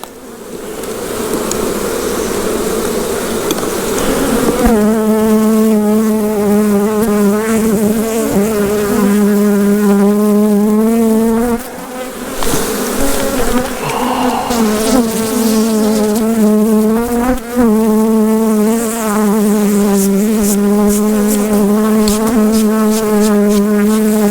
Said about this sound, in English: So we're robbing the bees of some of their honey.